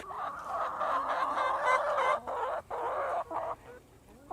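Pet chickens cluck and chatter in their coop and play area, a close flock producing repeated busy clucks and short squawks in choppy bursts, with no voices.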